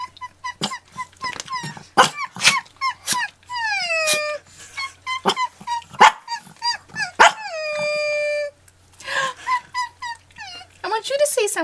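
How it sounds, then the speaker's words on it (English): A dog barks repeatedly up close, sharp yaps mixed with drawn-out whining howls, loud and insistent over several seconds. "That's some good barking right there"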